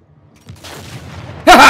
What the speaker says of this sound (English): Someone blew up.